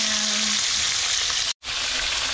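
Steady loud sizzling of lipti fish frying in hot oil, continuous hiss with one brief cut near the end.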